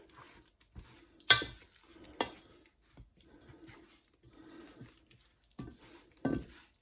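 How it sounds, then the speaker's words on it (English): Beef stew meat being tossed and mixed with flour by hand in a bowl, heard as faint soft rustling and light patter broken by a few sharp knocks against the container. "All I'm doing is mixing it in the flour."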